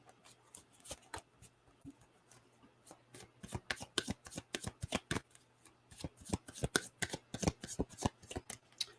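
Gilded Tarot cards being shuffled by hand, a rapid run of crisp, close riffling snaps and flutters that speeds up and grows denser, with no talk over it.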